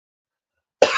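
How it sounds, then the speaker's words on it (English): After near silence, a man who has been sick coughs once, abruptly and close to the microphone, with a short rough burst right at the end. "trying to shake this cough."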